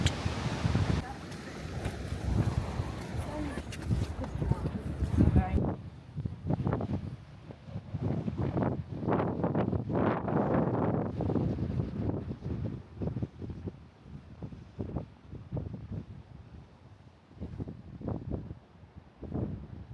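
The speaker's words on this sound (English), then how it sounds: "It's definitely breezy up here." Wind buffets a microphone on a cruise ship deck, a steady roar and rumble that carries on beneath a person talking.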